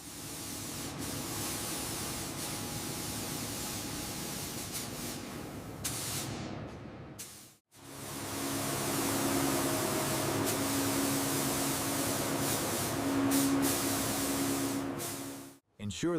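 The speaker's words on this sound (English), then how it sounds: "Ensure the pressure is high on the air gun" An air spray gun hisses out paint in long continuous bursts on a Soviet BM-27 Uragan rocket launcher under restoration, two sustained sprays broken by short pauses, moderately loud and close.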